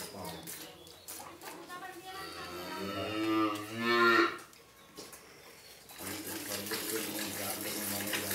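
Dairy cows on a Bangladeshi farm give a drawn-out, harmonic moo in the middle, rising loud around three to four seconds, with other cattle and people talking nearby and a steady watery background.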